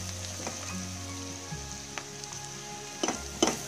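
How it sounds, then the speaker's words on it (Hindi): Homemade masala fries over medium heat for egg biryani, a soft continuous sizzle under a low hum, broken by a few light scrapes and clinks of a spoon against the pan. "अब मसाला को थोड़ी देर हम भुजेंगे मीडियम आंच पे"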